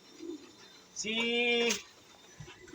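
A single pigeon coos once in a loft, a soft throaty call lasting under a second against quiet background.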